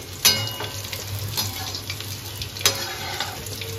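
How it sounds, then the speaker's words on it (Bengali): Chitol fish muitha dumplings fry in a pan with a steady hiss, punctuated by two sharp spattering crackles, one near the start and one toward the end. "চিতল গাছের মুইঠা ভাজা হচ্ছে"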